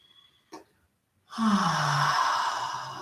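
A deep inhale during a yoga breathing exercise, heard as a brief breathy intake followed by a long, steady, fairly loud rush of breath drawn in close to the microphone.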